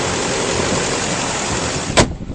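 A steady, rumbling 2007 GMC Sierra 2500 diesel pickup engine idles smoothly close by with a constant broadband drone, briefly interrupted by a sharp click near the end.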